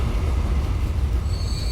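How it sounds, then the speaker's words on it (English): Trains rolling into a station in the Transport Fever railway simulation game, a steady close rumble of wheels and carriages with a faint high squeal near the end, no voices. "And then the other train coming in."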